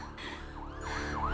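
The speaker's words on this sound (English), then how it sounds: "I heard sirens." A rising and falling emergency vehicle siren wails over a steady low hum, its pitch sweeping in repeated swoops that grow louder toward the end, with no talk.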